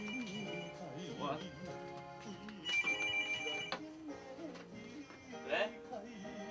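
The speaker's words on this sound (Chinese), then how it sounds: "来了，恭候讯息的电话来了。" A telephone rings with an incoming call, a repeating electronic ringtone with bright tonal bursts rising over steady background voices and music.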